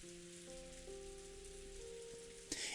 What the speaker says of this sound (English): In the Golden Land, the quiet rain just kept on falling.